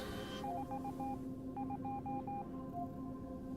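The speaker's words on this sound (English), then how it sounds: "Like the Morse code in the background music?" Morse-code-style beeps threaded through Honkai Star Rail background music: two quick bursts of short high electronic pips tapping out rhythmic patterns over a soft, steady synth pad.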